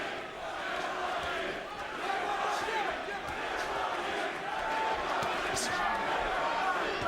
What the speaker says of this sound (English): Crowd chanting Triple G, Triple G.